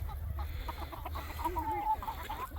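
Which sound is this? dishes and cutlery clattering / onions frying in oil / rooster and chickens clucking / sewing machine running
rooster and chickens clucking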